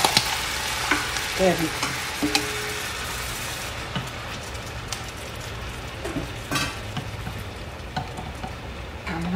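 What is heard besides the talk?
shrimp dropped into melted fat in a pan, sizzling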